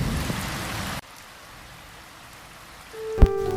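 Steady rain hisses loudly, then continues more softly after a sudden cut, with a brief tonal sound rising near the end; no voices.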